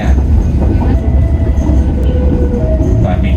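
The Probowangi passenger train runs on rails between Surabaya and Bali, a loud, continuous low rumble with faint clatter and squeal, heard from inside the carriage with no clear talk.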